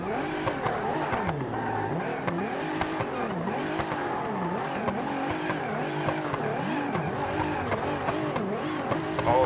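Tires squeal and skid continuously as a car drifts through a street in BeamNG, wavering whines rising and falling over steady loud engine roar, with no pauses.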